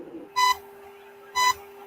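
Two short electronic beeps, each a steady tone lasting about a fifth of a second and about a second apart, sound clearly over a faint constant hum.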